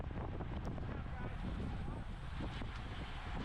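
Strong headwind roaring and buffeting across the microphone during an open category 4/5 bicycle road race in California, a constant dense rush that fills the whole stretch.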